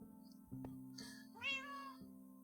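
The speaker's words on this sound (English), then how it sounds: "Isn't that right, cats? Noisy. Very noisy." Cats in the block-building game Minecraft let out two short meows, first a faint high one and then a louder drawn-out mew about a second later, over a quiet low game hum and a few soft clicks.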